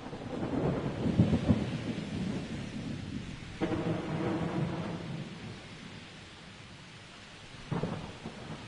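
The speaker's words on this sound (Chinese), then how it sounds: "我录下了接下来这段的雷雨声" Tropical afternoon thunderstorm in Kuala Lumpur: steady rain patters throughout while several rolling thunder rumbles swell and fade at moderate distance, with no voices.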